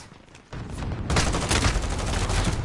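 Heavy gunfire in Call of Duty Warzone: a dense fusillade of rapid shots, close and loud, erupts after a brief quieter moment and keeps rattling without pause.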